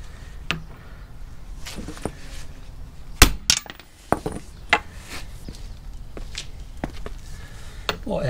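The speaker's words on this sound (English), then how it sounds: "we're going to pound it out with a socket on the center sleeve" Hammer striking a socket to pound out a factory bushing on a V8 Ford Ranger: scattered sharp metallic blows at irregular intervals, close, with one loud cluster midway and quiet gaps between.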